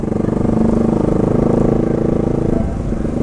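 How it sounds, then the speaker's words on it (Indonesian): Indonesian motorcycle with a loud aftermarket brong exhaust fitted with a dB killer, idling close by with a steady, rapid low throbbing burble that holds constant before easing slightly near the end. "Knalpot pakai DB killer"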